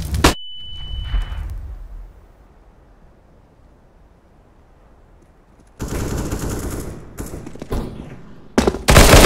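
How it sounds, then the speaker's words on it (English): A flashbang grenade going off in Counter-Strike: Global Offensive on the Mirage map. A loud sharp bang rings into a faint muffled lull, then another loud burst of noisy gunfire and blasts follows near the end. "Flashbang."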